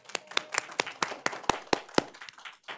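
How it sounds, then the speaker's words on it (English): A few people in a school board meeting audience clap for the board members, a sparse, uneven patter of hand claps lasting under three seconds before trailing off. "I would like to ask the audience members to give our hardworking board members a round of applause."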